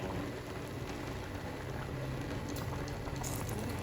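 A pot of Thai red-mouth snail curry boils on the stove, a dense continuous bubbling and crackling hiss at steady level, close by with no speech.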